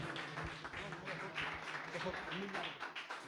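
Congregation applauding during a Spanish-language church service, a moderate, continuous spread of clapping for a few seconds with some voices mixed underneath.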